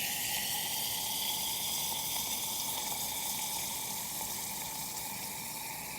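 Liquid nitrogen poured onto a lab bench gives off a continuous, fairly loud hiss and seething rush that stays steady throughout and fades only slightly toward the end, with no talk.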